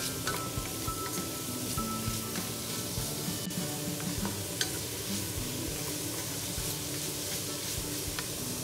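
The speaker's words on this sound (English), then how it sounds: "Saute until the onion is translucent but not brown." Onion, carrots and celery sauté in a soup pot with a steady, soft sizzle and faint crackles throughout, quiet and unbroken with no talking.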